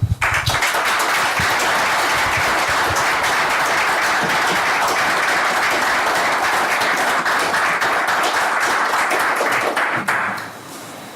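Loud, sustained applause from a plenary discussion audience thanking the A Coruña organizing team, dense and even for about ten seconds before cutting off.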